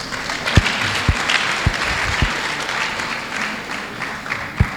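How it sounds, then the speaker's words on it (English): Applause from the audience at a local investors forum in Benue, sustained clapping with a few sharp, louder claps and thumps standing out above the crowd. "Another round of applause."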